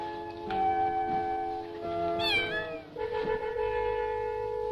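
A black cat meows several times, with drawn-out, rising and falling cries at close range, one sharp and high, over a faint background hum.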